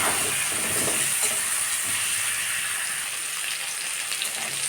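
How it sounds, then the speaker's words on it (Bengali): Bottle gourd fries in oil with salt and turmeric, giving a constant, even sizzle and hiss that fills the space. Faint stirring scrapes sound underneath. "লবণ হলুদ দিয়ে লাউটাকে ভেজে নেব আমি"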